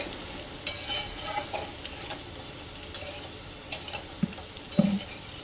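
Potatoes fry under a lid in a pan, a soft continuous sizzle with occasional scraping stirs and light utensil clinks against the pan, close and fairly quiet.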